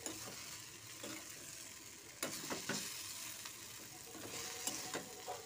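Dried fish being stirred through spice paste frying in a pan, a steady close sizzle broken by soft scraping strokes and a few sharper clicks of the spoon.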